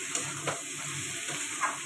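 Eggplant hits hot oil in a pan of spicy bhola fish curry with potato, giving a steady close sizzle with a few soft stirring scrapes and no voices.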